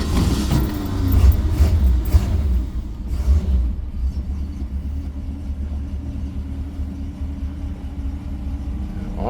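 A 1966 Ford Mustang convertible with automatic transmission, driven earlier, cranks and catches, then settles into a steady low idle rumble that carries on alone for several seconds.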